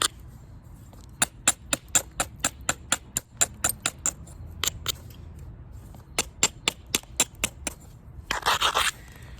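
A hammerstone chops at stone to shape an adze: sharp, clicking strikes in quick, fairly regular bursts with short pauses between, followed at the end by a brief gritty scrape.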